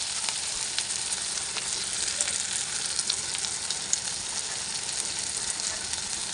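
Tomatoes frying in a pan until soft for prawn poppy-seed curry: an even, moderately loud sizzle with faint crackles and tiny pops throughout.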